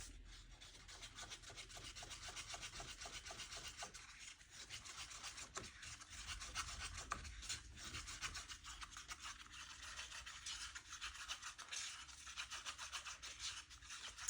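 Epoxy resin is stirred in a cup, a quiet, steady scraping and rubbing with a rhythmic back-and-forth texture, faint and close, continuing without pause.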